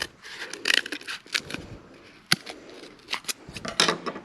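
Scissors cut a strip of material in half for a kaleidoscope craft, with a series of close, crisp snips and rustles in an irregular rhythm.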